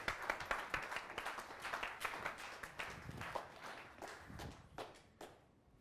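Scattered, fairly faint applause at the FlexWorld 2022 keynote as the speaker walks on stage, individual claps distinct and uneven before trailing off.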